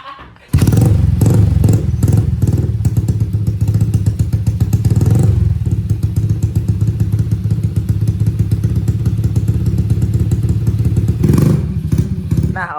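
A Honda Supra X 155cc motorcycle engine freshly filled with oil starts up and runs at a loud, close, rapid idle with steady mechanical clatter, a brief dip near the end, and no talk.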